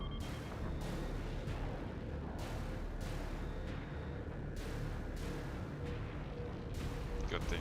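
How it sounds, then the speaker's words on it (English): Incoming missiles strike in the space combat game Battlestar Galactica Deadlock, a rapid run of evenly spaced, artillery-like bursts pounding over a dense rumbling battle background. "Missiles incoming!"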